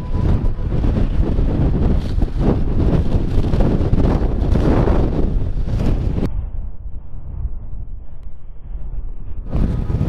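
Strong wind roars across the microphone during a motorcycle ride near Malico, San Nicolas, a loud continuous buffeting rumble that eases briefly before surging again.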